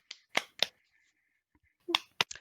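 A little clap of sharp, close hand claps comes in two brief clusters separated by a short silence, crisp and light.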